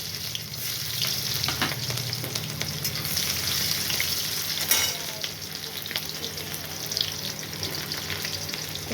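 Onions fry in a wok with a little garam masala and cumin, a close, steady sizzle and crackle with scraping stirs and occasional sharper pops throughout.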